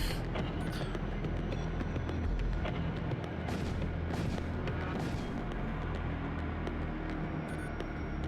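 Ship guns blasting in the space battle game Void War, a continuous barrage of heavy booming shots and crackling impacts layered over a thick low rumble, loud and sustained.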